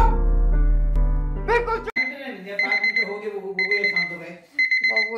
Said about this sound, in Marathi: हे घड्याळ पप्पा घेऊन आले आणि आता 10 मिनिटं झाली वाजतोय, अजून त्याचा अलार्म बंद नाही होत